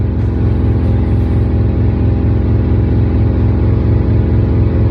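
A 1948 Ford F-1 panel truck engine idles, a loud, close, steady low rumble with an even pulsing rhythm that holds throughout without revving.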